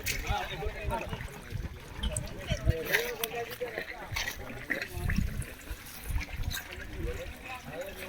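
Water splashing and trickling steadily, with people talking over it throughout.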